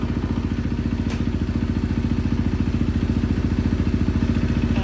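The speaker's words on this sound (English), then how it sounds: "So bike fired right up." A KTM 500 EXC-F motorcycle with a newly installed clutch runs at a steady idle, its single-cylinder thumping loud, close and rapid throughout.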